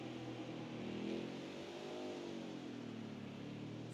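A race car engine drones in an Xfinity Series racing video game at the Indianapolis road course, a steady mid-pitched hum with a slight swell in revs near the start, heard alone without talk.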